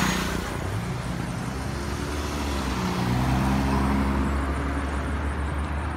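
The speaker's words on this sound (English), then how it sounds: "That is a public bus." A public bus rumbles past on a suburban road in Kigali, Rwanda, a loud, broad engine and tire roar with a slight pitch shift as it goes by, alone without voices.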